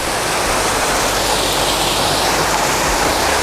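A hidden waterfall in Yelagiri pours down rocks with a loud, steady, broadband rush close by, unbroken throughout.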